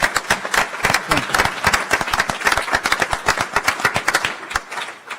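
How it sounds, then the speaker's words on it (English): After a panel session on water infrastructure, a smaller audience claps with distinct, close individual hand claps forming uneven applause for about five seconds, tapering toward the end. "Please, all warm round of applause for all of us"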